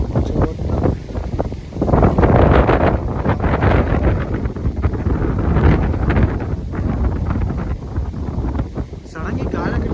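Wind gusts loudly across a microphone on a road at night, a constant rough rushing roar that swells and eases, with some voice faintly mixed in.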